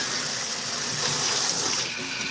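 Water running steadily from a tap while vintage hats are rinsed, a close, even gush with no pauses and no talk over it.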